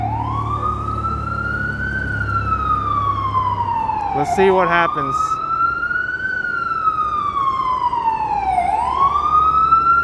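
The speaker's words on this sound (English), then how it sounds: "Now there's an ambulance in the way." A loud ambulance siren wails, rising and falling repeatedly close by in street traffic in Hamilton Heights, Manhattan, New York, with a brief burst of rapid yelping tones midway and a short spoken remark underneath.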